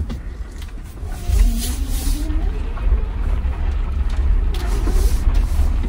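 A vehicle's rear differential gives off an odd low whine that rises and wavers in pitch under a steady rumble of road and drivetrain noise while driving.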